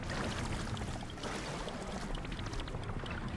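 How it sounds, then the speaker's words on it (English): A character plunging into water in Zelda: Tears of the Kingdom, a steady close splashing and churning wash of water lasting a few seconds, with no talk over it. "Oh no, I've fallen in the water"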